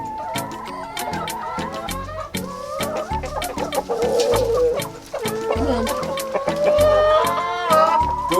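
A flock of backyard chickens, a rooster among them, clucks steadily in the snow during an early snowstorm, loud and close, with many overlapping calls and rhythmic beats running throughout.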